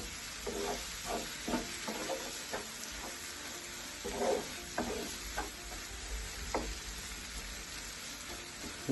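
Aloe vera chunks frying in a pan, heard as a steady sizzle with a spatula stirring and scraping at irregular intervals, close and continuous with no voices.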